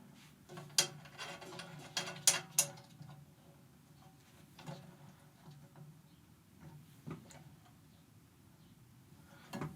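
Tension bolts threaded by hand around a snare drum, giving small metallic clicks and ticks in irregular bursts, loudest early and then sparse and quiet, with no talking.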